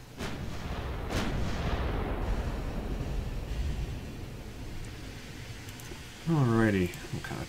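Warship guns on a German semi-dreadnought in Ultimate Admiral: Dreadnoughts boom twice early on, followed by a long rumbling wash of noise, with a short burst of speech near the end.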